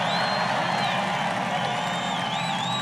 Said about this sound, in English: There's a hell of a crowd.